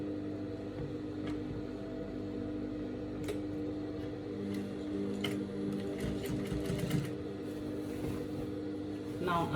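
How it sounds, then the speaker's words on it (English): A sewing machine runs stitching a waistband onto straight-leg pants, its fast mechanical whir continuous at moderate volume, with brief clicks and handling noises between runs. "I'm going to join it to the waistband like so, and I'm going to sew"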